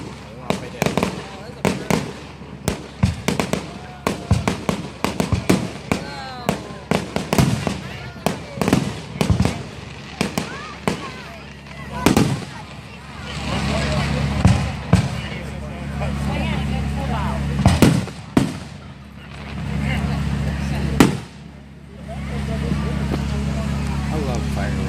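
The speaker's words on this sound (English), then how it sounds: "I love fireworks." Fireworks display bursting at Indian River, Michigan: repeated loud booms and crackling explosions, some sharp and close, others rumbling, with a steady low drone beneath and occasional talk between bursts.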